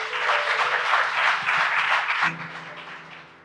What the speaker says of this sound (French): On applaudit bon Dieu.